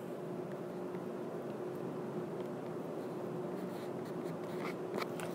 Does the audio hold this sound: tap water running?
no